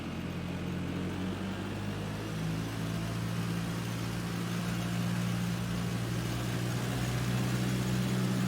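A Cessna C172 engine holds a steady 1,800 RPM run-up with the mixture rich, a constant droning hum with a low buzzing undertone that stays loud and even throughout, with no voices.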